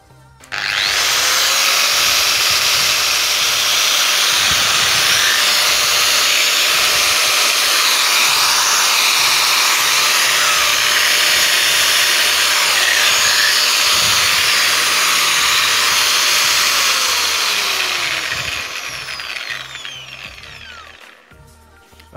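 A Makita 9558HNR 125 mm angle grinder spins up and runs steadily at full speed with a loud, sustained high whine, then winds down near the end, with no talk.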